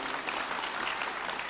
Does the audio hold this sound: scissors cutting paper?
no